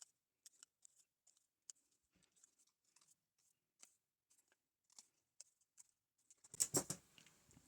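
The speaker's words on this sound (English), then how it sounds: "So I'm going to cut out those very quickly" Scissors cutting out small paper labels at a craft table, a long run of faint, quick snips and light paper rustles, then a louder burst of paper handling near the end.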